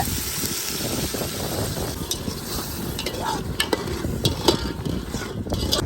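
Ginger garlic paste sautés in hot oil, a close, steady sizzle with crackling pops and occasional stirring scrapes, no talking.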